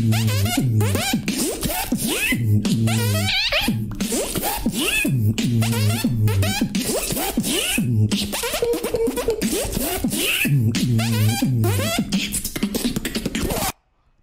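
A beatboxer's voice imitates a zipper being pulled back and forth, rapid raspy scratching strokes repeating in a tight rhythm over vocal bass, loud and close, ending abruptly.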